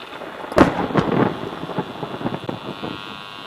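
A close thunderclap cracks loudly during a summer storm near Przemyśl and Sanok, Poland, then rumbles and rolls away over several seconds with rain hissing in the background.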